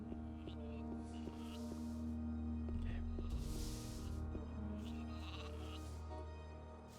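Sheep bleating in the video game Gothic II: a few drawn-out bleats rise over steady in-game music and ambient hum, moderately close and clear.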